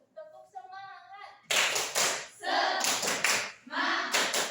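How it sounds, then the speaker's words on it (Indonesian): A class of schoolchildren does a rhythmic spirit clap, tepuk semangat, loud bursts of clapping in a patterned beat with pauses between groups, opening with a woman's sung or spoken cue before the clapping. "Ibu mau ngajak kalian buat tepuk semangat terlebih dahulu."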